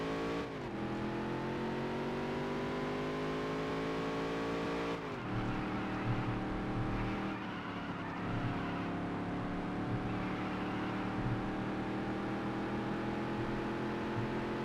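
A race car engine in the Dirt to Daytona video game drones at high revs, then dips sharply in pitch as it drops down a gear and settles into a steady, continuous roar.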